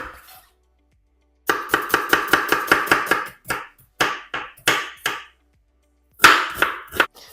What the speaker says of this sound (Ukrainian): Нарізаю цибульку.